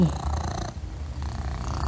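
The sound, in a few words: cat purring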